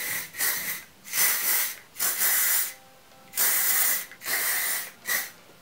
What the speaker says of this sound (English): I might spritz a little bit of hairspray on.